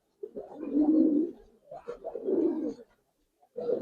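A Bagha Giribaz pigeon cooing up close, three low, throaty coos separated by short pauses.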